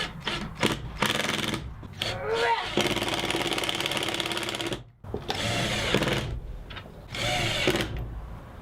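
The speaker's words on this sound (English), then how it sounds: "I'll pre-drill the mounting holes and I'll screw the base on." A power drill pre-drilling mounting holes and driving screws into the base of a pipe paper towel holder, heard as several whirring bursts of varying length with short pauses between them, close and loud.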